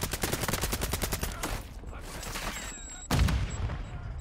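Rapid bursts of gunfire in a shooter video game, repeated volleys firing fast and loud in the first half, then a heavier blast partway through, with sporadic shots continuing afterward.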